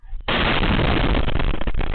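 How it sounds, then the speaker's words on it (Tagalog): A massive explosion from a failed fireworks disposal in Barangay Kabatangan, Zamboanga City, erupts suddenly after a brief lead-in and sustains a deafening, distorted roar to the end, loud and close with no talk. "Sa lakas ng nakabibinging pagsabog"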